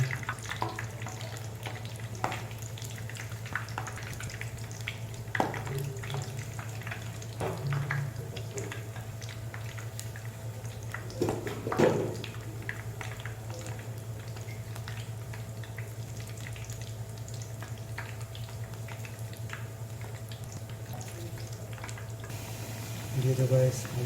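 Biscuits fry in hot oil in a pan, giving a steady, even sizzle and crackle that runs the whole time, with a few brief louder pops scattered through.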